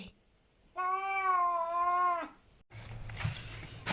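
A house cat lets out one long, clear, drawn-out meow close by, lasting over a second, with faint room noise before and after.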